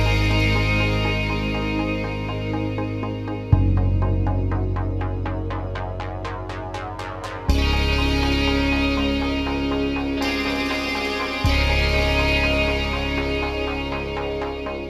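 Airy electric guitar and synth parts with sustained chords, a rising run of bright plucked notes and steady bass, played as a continuous polished demo with no talking.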